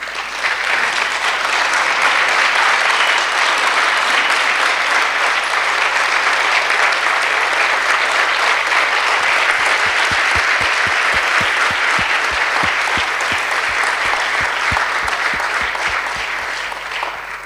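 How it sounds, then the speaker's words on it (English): A demo day audience applauding startup presentations, loud continuous clapping from a large standing crowd with rhythmic low thumps joining midway, lasting the whole stretch. "all stand up and give these 5 startups the warmest applause you can for these excellent presentations"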